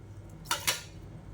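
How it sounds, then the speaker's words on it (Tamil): Soaked poha goes into a mixer jar with two quick metallic clinks of a spoon against the jar in a quiet kitchen. "இப்போ இது வந்து அப்படியே ஒரு மிக்ஸி ஜாரில் சேர்த்துக்கலாம்."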